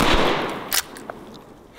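A 12-gauge shotgun fires once at a can outdoors: one loud, sharp blast right at the start, then a quick decay with a couple of small pops and rattles.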